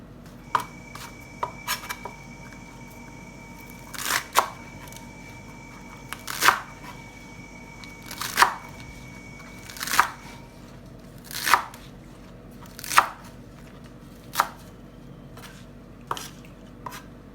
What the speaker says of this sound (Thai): แล้วก็จะนำมาหั่นนะฮะ